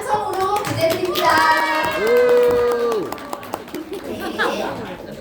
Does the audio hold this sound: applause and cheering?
yes